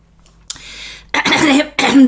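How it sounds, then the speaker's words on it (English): After a brief sharp catch of breath, two harsh, close coughs burst out, loud and raspy, with a moment's pause between them. "Sorry about my coughing."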